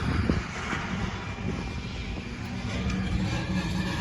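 Faint, steady drone of an aircraft flying over near an airport, a low continuous rumble holding level throughout with no voices.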